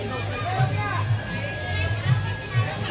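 A crowd gathered for a Holi bonfire mills about with a continuous babble of adult and children's voices, steady and fairly close, with occasional shouts rising above the general hubbub.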